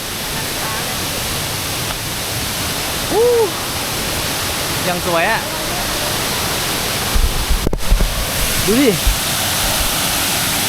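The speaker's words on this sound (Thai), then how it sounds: "ได้ยินเสียงน้ำตกแล้ว" A constant rushing roar of the Pha Sawan waterfall fills the background, loud and steady, while a person speaks briefly over it and birds chirp faintly.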